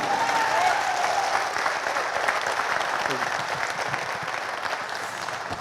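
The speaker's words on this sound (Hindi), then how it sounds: "जोरदार तालियां बजे।" A loud round of applause from an audience at an indoor gathering, with dense, sustained clapping throughout and a faint voice briefly audible near the start before the clapping gradually eases.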